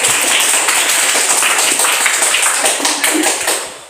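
A group of children in a classroom claps hands together in a rapid, roughly unison burst, loud and close, trailing off near the end.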